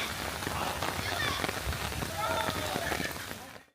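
Heavy rain falls on a university campus, a steady dense roar of drops on hard surfaces that fills the whole stretch before cutting off abruptly at the end.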